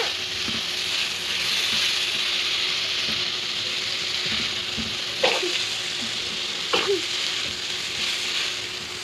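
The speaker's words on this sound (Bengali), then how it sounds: "এটা ভালো করে নাড়াচাড়া করে দিব" Vegetables sizzle steadily in a frying pan while being stirred, with close scraping and a couple of sharp clanks of the utensil against the pan over the continuous frying hiss.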